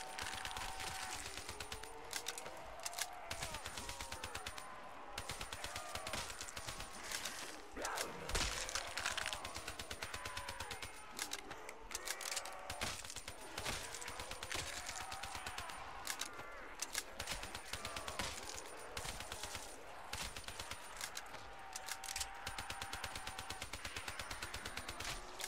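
Quiet, dense gunfire from Black Ops 3 zombies on a custom map, rapid shots crackling almost without pause throughout.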